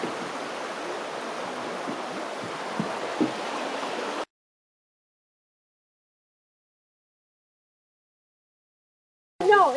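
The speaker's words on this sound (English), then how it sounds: "This is a bridge over the creek here." A creek rushes steadily over rocks beneath a bridge on a hiking trail for a few seconds, a constant close-up flow, then silence, ending with a brief burst of noise.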